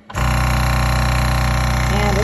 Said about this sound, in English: Hit the auto vacuum seal.